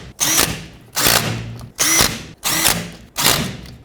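On a 2007 Chevy Silverado Classic, a power tool snugs the rear axle cover bolts in five short, loud bursts of whirring and ratcheting, each one separated by a brief pause.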